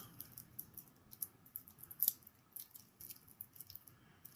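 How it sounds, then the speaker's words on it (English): A new Tissot V8 Swissmatic watch being unwrapped, with soft, close crinkling and rustling of wrapping material in faint, irregular bursts, quiet and without talk. "Okay, now we're gonna unwrap it."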